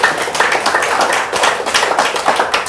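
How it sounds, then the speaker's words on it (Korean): An audience at a Korean afternoon lecture on health and managing change claps together, a close, loud patter of many hands with uneven rhythmic bursts that runs the whole time. "제 말에 맞은 박수 한번 쳐주세요"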